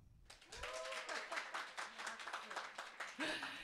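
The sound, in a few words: audience clapping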